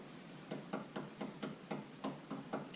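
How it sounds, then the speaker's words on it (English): A brad awl taps and probes into an aerated brick wall, giving about ten quiet, evenly spaced scratchy knocks in a steady rhythm, close and alone. "we shall get our brad awl again, have another feel around"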